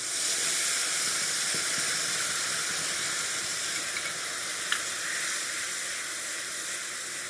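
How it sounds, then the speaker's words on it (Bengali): Onion paste frying in hot oil in a pan for a Bengali doi katla fish curry, giving a loud, steady broadband sizzle and hiss that continues unbroken throughout, close up, with no voices. "পেঁয়াজটা একটু ভালো করে ভেজে নেব"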